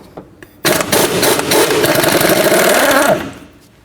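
A power tool with a 17mm socket spins off the castle nut on a Toyota RAV4 front hub. It gives one close, loud whirring burst of about two and a half seconds that starts abruptly and winds down.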